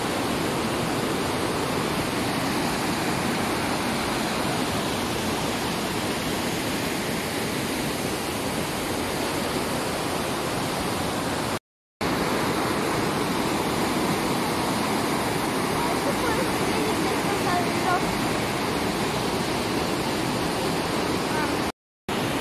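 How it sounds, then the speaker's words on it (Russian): Steady roaring rush of falling water, dense and constant throughout, with two very brief dropouts and no clear talk. "а тут наверху идет водопад"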